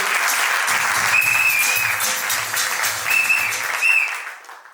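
Guests at a civil wedding ceremony applaud the witnesses, a steady roomful of clapping that holds evenly, a faint voice briefly rises over it, then the applause fades out at the end.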